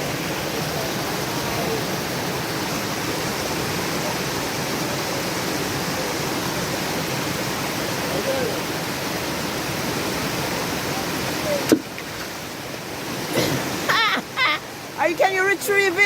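A forest stream flows steadily as a constant broadband rush for most of the stretch, then thins out near the end, where splashes and brief sounds of people moving about by the water break through.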